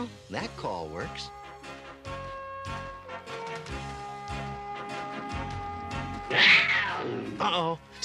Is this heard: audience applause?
no